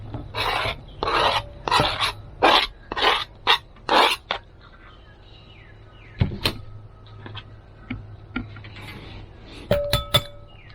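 Mashed banana and eggs being mixed in a bowl: about eight rhythmic scraping strokes in quick succession, followed by quieter, scattered clinks and taps against the bowl.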